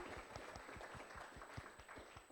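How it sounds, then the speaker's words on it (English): An audience gives a round of applause at an arts and youth well-being event in Eugene, faint and distant, with a fairly even patter of claps throughout. "let's give a round of applause for that"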